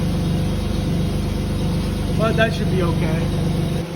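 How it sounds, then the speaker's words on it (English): A car engine with a leaking muffler and pinhole exhaust leaks runs at a steady, rumbling idle, close and continuous, with someone talking over it. "Oh, the muffler's leaking on this one."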